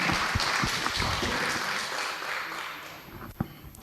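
A conference audience at a pharmacology meeting claps for a presenter: dense close applause that slowly thins and fades over a few seconds, with a few last scattered claps at the end.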